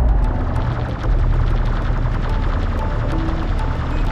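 Gunfire and explosions in the desert real-time strategy game Homeworld: Desert of Kharak: a dense, continuous barrage of rapid shots and rumbling booms that stays loud and steady throughout, with no talk.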